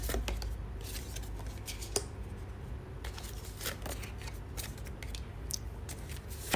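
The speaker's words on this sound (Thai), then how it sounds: "ขออนุญาตเปิดไพ่สักครู่" Tarot cards are shuffled and turned over, giving soft papery flicks and slides with a few sharper snaps over a steady low background hum.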